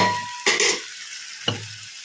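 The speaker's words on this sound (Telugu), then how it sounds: "ఇలా కలుపుకొని టమోటా బాగా పేస్ట్ అయ్యే వరకు ఉడకడించుకోవాలన్నమాట" Tomatoes simmering down into a paste in a pan are stirred with a utensil, giving a steady sizzle punctuated by two distinct scraping stirs against the pan, close and moderately loud.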